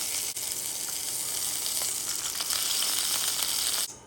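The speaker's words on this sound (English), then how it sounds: "you can adjust the salt or whatever in the meat when you cook just a little small piece like this" A small piece of turkey sausage meat frying in a hot pan, a steady bright close sizzle that holds for several seconds and cuts off abruptly at the end.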